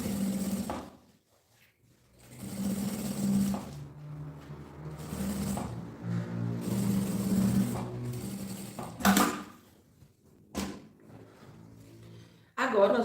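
A sewing machine fitted with a zipper foot topstitches a handbag seam with its ring tab and handle raised, running in several sustained humming bursts separated by short pauses and handling clunks.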